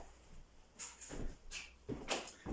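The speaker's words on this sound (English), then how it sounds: "Just get my back door open for a bit of air." A back door is opened at home, giving several close thuds, rattles and clicks of the door and its fittings spaced through a short quiet stretch, with no talking.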